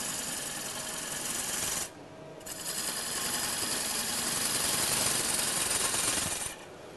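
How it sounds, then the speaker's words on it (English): Wood lathe push cut with a gouge riding the bevel, a steady close scraping and whirring hiss broken by a brief pause before the cut resumes. "lift in the cut and there we go, a nice bevel rubbing cut"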